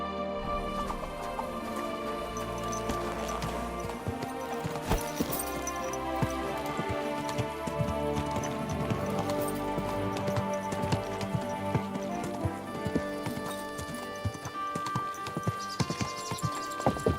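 Horse hooves clip-clop at a steady walking rhythm in the medieval video game Kingdom Come Deliverance 2, close and continuous under layered game music and ambience.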